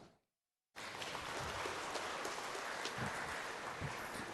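A church congregation claps loudly during an evening homily at Mass. A brief near-silence gives way to a sudden, sustained burst of dense clapping that stays full and even to the end, heard from a distance.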